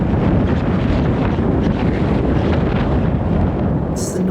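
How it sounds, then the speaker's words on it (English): Strong, relentless wind blasting across an exposed fell summit in midwinter near Helvellyn, a loud continuous roar buffeting the microphone throughout with no letup. "And then as we got to the top of it and ran into what is the craziest wind"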